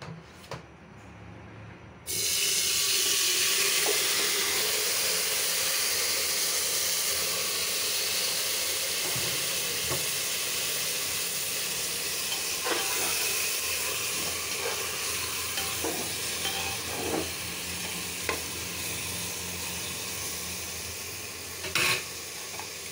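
Curry frying and being stirred in a pan, a steady loud sizzle and hiss with scattered scrapes and clinks of the spoon throughout, no talk.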